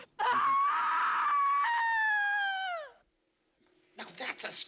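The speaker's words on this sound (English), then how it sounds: "Now that's a scream!" A long, shrill scream used as a sound effect in a horror movie mix, loud and sustained for almost three seconds before breaking off. A short burst of speech follows the silence.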